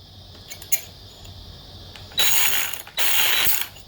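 Homemade DIY lock pick tool working a lock under tension, with faint small clicks and ticks early, then two louder bursts of rapid scraping, rattling metal near the end.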